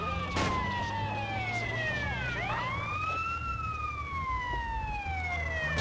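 Ambulance siren in the video game GTA San Andreas, a loud wailing tone sweeping steadily up and down over a constant engine rumble, close and uninterrupted.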